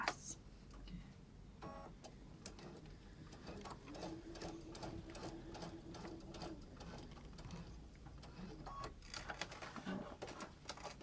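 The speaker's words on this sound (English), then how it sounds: "do one more quick little seam" Sewing machine running a short quick seam near the edge of a Morgan messenger bag, a continuous fast mechanical stitching chatter with faint ticking, close and fairly quiet.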